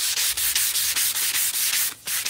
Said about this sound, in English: if you use your sandpaper right, you're not gonna tear it up